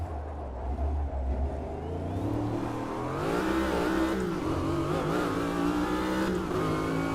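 A Corvette Group C race car engine roars in a racing video game at the Long Beach street circuit, a loud continuous drone that rises in pitch as it accelerates and shifts. The engine stays close and steady throughout, with no talking.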